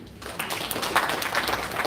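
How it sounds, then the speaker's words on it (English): An audience claps for panelists after a youth discussion at a World Population Day event, a steady wash of applause rising after a brief quiet start and holding fairly loud throughout. "Let's clap for them."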